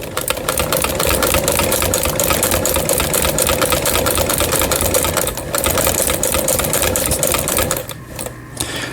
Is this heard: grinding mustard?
no